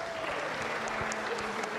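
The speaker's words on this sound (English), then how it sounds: "How about a round of applause for them?" A church congregation at a Sunday blended worship service applauds, steady dense clapping filling the room with a faint sustained tone beneath.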